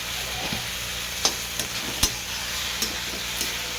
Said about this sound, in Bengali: এখন ভাজাভাজি হচ্ছে।